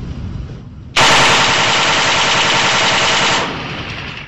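A sustained burst of rapid machine gun fire comes from a Turkish YAK remote-controlled weapon platform, loud and continuous for about two and a half seconds, then cutting off into fading echo.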